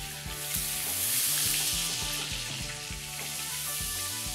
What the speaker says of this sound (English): I'm gonna go ahead and add the butter in. Let that melt down a little bit.